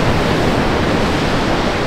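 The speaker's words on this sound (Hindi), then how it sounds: "पानी का फ्लो बहुत ज़्यादा है।" Fast-flowing river water in Alberta, Canada, a loud, steady broadband rush close by with no pauses or voices.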